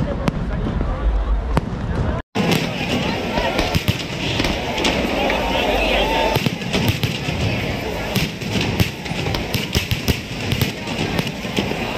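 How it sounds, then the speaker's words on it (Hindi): Fireworks at the Ayodhya Deepotsav festival, a dense continuous barrage of crackling bursts and pops with crowd noise underneath, loud and sustained after a brief cut near the start. "और अब बारी थी पटाखों की"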